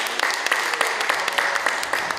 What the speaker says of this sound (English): Give them another round of applause for their introductions